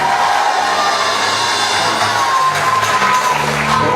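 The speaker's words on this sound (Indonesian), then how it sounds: "Tepuk tangan bagi kita." A large campus audience at an anti-corruption musical discussion event claps and cheers, a dense, loud wash of crowd noise with shouts and whoops running steadily throughout.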